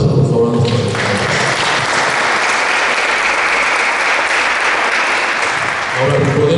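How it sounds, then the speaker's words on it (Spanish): An audience at a municipal COVID-19 prevention conference in Chicoloapan applauds its guests with steady, dense clapping that holds evenly for several seconds, opening and closing briefly under a speaking voice. "Vamos a darle un aplauso, por favor, a nuestros invitados."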